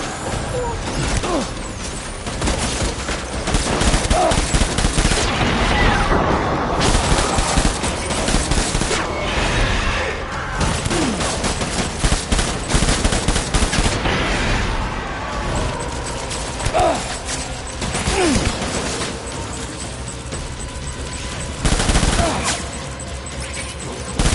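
Gunfire in the video game Death Stranding, with dense, loud bursts of rapid shots rolling almost continuously over a rumbling backdrop, broken by brief lulls.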